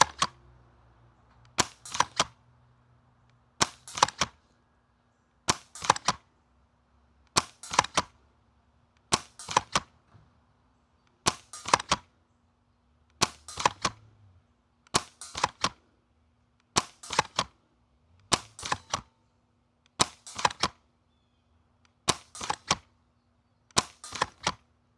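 Sharp, evenly spaced shots from a pump-action airsoft sniper rifle crack out one after another, about a dozen in quick succession with short gaps between them, close and loud over a faint low hum.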